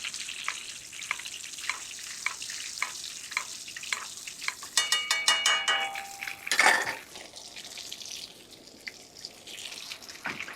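A Dover sole fish cooking gently in a pan for meunière, a soft steady sizzle with repeated light taps and clinks of a utensil against the pan, and a louder scraping clatter midway, no talk.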